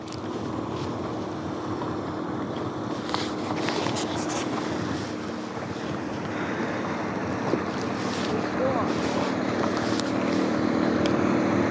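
Motorboat engine approaching across a wild lake and easing off the throttle, a steady moderate drone under wind buffeting on the microphone and lapping water, with no talk.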